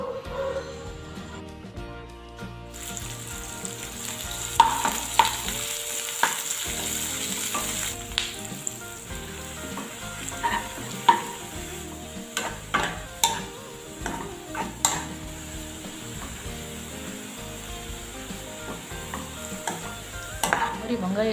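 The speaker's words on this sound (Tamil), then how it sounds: "வெங்காயத்தை நல்லா எண்ணெயில் பொரிச்சு எடுத்துக்கோங்க" Chopped onions fry in hot oil for Chennai street-food egg bhejo, a steady crackling sizzle broken by frequent scraping stirs and light utensil clinks, close and continuous.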